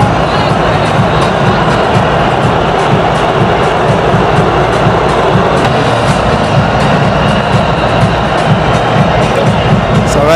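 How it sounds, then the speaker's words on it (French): A dense, roaring stadium crowd in Côte d'Ivoire applauds the Nigeria team at an African championship final, the cheering and clapping steady and loud throughout, with no pauses. "belle image du public ivoirien aussi qui les applaudit"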